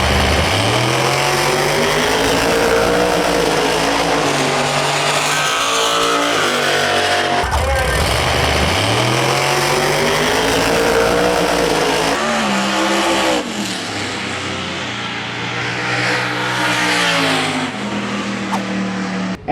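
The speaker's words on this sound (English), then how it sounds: "Here goes Cortina." Drag radial cars, one running a 275 tyre, launch down the strip in a last-pairing run at a Kenda Drag Radial King of the Kids shootout, engines roaring loud and sustained with rising revs and gear changes, an announcer talking over them.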